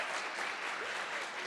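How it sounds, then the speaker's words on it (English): Brief burst of steady audience applause at a travel industry forecast conference, fairly soft and even, with no speech over it. "let's just give him a round of applause for that"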